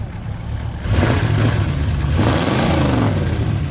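A car engine rumbles steadily, then revs up and holds a louder, throatier drone, fairly close and continuous without any voices.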